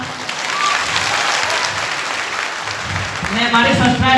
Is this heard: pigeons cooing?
no